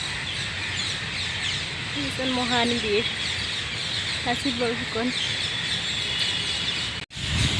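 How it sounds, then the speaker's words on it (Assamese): Mynas and crows call at the Digholipukhuri War Memorial in Guwahati, Assam, in two short bursts of chattering calls over steady outdoor noise, while a person talks nearby. "চৰাই চাওকচোন কেনেকৈ উৰি আছে বাপৰে ইমান চৰাই ভাটৌ কাউৰী ভাটৌ"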